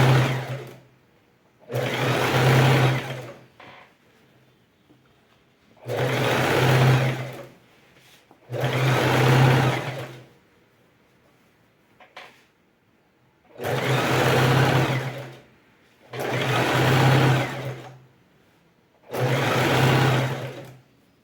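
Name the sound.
sewing machine stitching a patchwork rug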